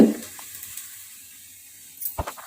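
Small shallots sautéing in a pan make a soft, steady sizzle that stays faint throughout, with a brief knock and clatter of a utensil near the end.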